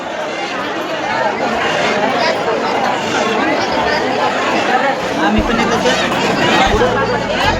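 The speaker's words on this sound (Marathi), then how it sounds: "गर्दी बघा." Large crowd chattering outside Ekvira temple, a steady loud hubbub of many overlapping voices with no single speaker standing out, continuing throughout.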